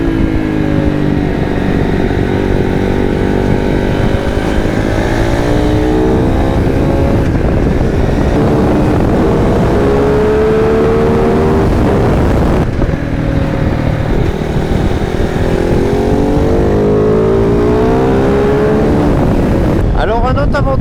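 Kove 450 rally motorcycle in supermoto trim ridden steadily through bends, its single-cylinder engine loud and continuous throughout, revs sweeping up and down with each corner and gear change.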